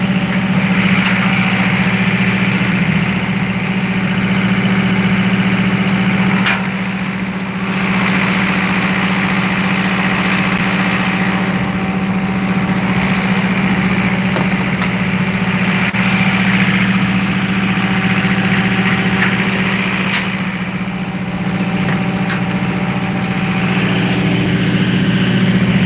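A carbureted engine idles steadily and loudly, a continuous low rumble with vibration that holds throughout, with no voices over it.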